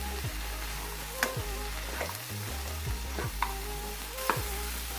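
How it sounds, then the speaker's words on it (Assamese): Cashews, turmeric and salt sizzle in a hot pan as a spoon stirs the mixture, producing steady frying crackle with periodic scraping strokes and light clinks against the pan, close and continuous. "এইবাৰ গোটেইখিনি এবাৰ ভালদৰে মিক্স কৰি ল'ম।"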